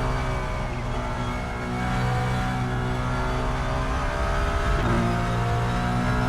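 Ferrari 296 GT3 race car in a sim racing game at Road America, its engine held at full throttle mid-corner with a steady loud drone that rises slightly, no talk over it.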